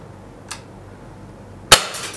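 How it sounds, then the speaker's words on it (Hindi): A CZ 75 P-07 Duty CO2 BB blowback pistol fires a single sharp, loud crack near the end, preceded by a faint click in an otherwise quiet setting. "ये 8 राउंड फायर कर लिए."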